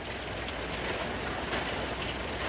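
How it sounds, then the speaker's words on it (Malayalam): Steady rain falling outdoors, a dense, even patter with no gaps, heard close and fairly loud with no voices. "പിന്നെ നല്ല മഴ പെയ്യാൻ തുടങ്ങി"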